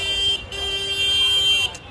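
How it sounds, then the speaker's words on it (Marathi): A vehicle horn blares in long sustained blasts with a brief break between them, loud and close, over a low rumble of street traffic. "अरे काय हा हॉर्न वाजतो यार"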